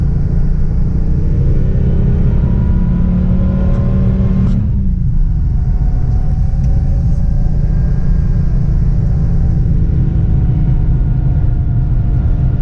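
A 1987 Porsche Turbo engine, recently revived after sitting for years, revs and accelerates while driving. A loud, steady rumble climbs in pitch, briefly drops at a gear shift, then pulls again, close and continuous.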